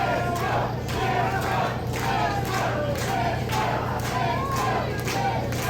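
Wrestling crowd at a live pro wrestling show chanting in a steady rhythmic pattern, with loud, continuous massed voices and occasional claps filling the arena.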